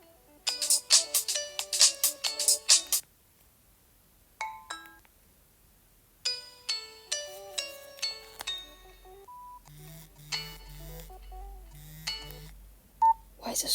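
Several Nokia 113 ringtones and alert tones play in turn, bright repeated electronic beeping melodies separated by short pauses, fairly quiet and alone with no talking.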